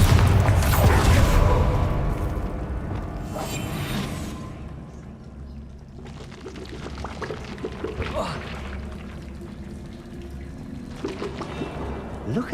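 Bombarda blasting spell going off in Hogwarts Legacy, a loud burst with a rumbling, crumbling wash of debris that fades into a softer ambient rumble, with further smaller bursts later.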